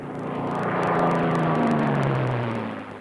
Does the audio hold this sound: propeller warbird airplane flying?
yes